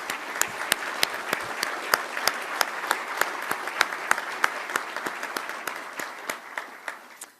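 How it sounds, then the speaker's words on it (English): A room of attendees at a Calgary Chamber of Commerce morning event claps for sponsors and distinguished guests, a steady, moderately distant round of applause that tapers slightly toward the end. "Please give a round of applause for our sponsors and our distinguished guests."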